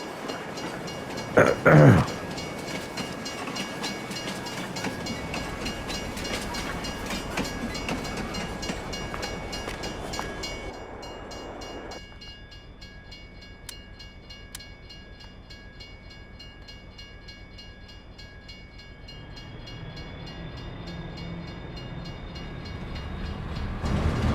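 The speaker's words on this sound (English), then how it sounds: "Okay, train should be coming now." A train in Farming Simulator 22 rumbles along steadily with a continuous mechanical drone, then the sound thins and quiets before the engine noise builds again.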